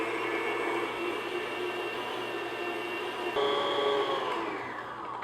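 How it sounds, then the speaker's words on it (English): Electric mixer beating egg whites on low speed for a cheese soufflé, a steady close whirring hum with faint motor harmonics that holds evenly, shifts slightly partway through, and then eases off at the end. "I've been beating them on low speed until this, kind of foamy."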